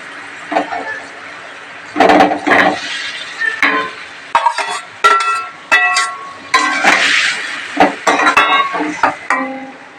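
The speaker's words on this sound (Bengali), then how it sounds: "এবার আমি পটলগুলো দিয়ে দিচ্ছি" Pointed gourd pieces tip into hot oil in a pan while making doi potol, bringing a run of clattering, clinking bursts against the metal with a soft sizzle underneath, close and fairly loud.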